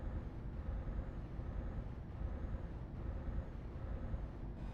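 Truck air brakes in a trucking simulator game, a steady broadband hiss of released air over a low rumbling engine, continuous and fairly loud for the whole stretch with no talking.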